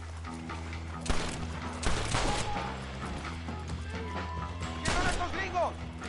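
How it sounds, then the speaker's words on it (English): Gunfire erupts during a Red Dead Redemption shootout, with several loud bursts of shots near the start, middle and end over a steady background of music and ambient game sound. "We'll shoot our way in there."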